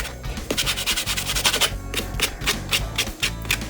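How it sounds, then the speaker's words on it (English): Sanding sponge rubbed lightly over a watercolor UV resin pen in quick rhythmic back-and-forth strokes, a close, steady scratchy rasp with brief pauses and no talking. "So I'm just going to give this a light sand just to scratch it up a little bit, get it ready to use."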